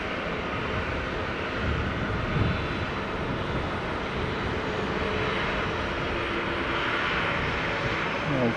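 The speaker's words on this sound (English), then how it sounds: "we've got the first of our beautiful crane livery Japan Airlines going to come and see us" A Japan Airlines airliner in crane livery moves at Fukuoka Airport, its jet engines giving a continuous, even roar at moderate distance with no break across the whole span.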